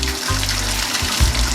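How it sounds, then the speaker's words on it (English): Tap water runs steadily over green bananas in a sink, a continuous low rushing flow with small gurgling shifts, close and moderately loud, with no talking. "let it run under the water for a little while you're doing something else"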